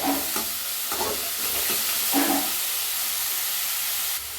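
Continuous sizzling of onions sautéing in a hot pan, with a few scraping stirs of a spatula, close and fairly loud.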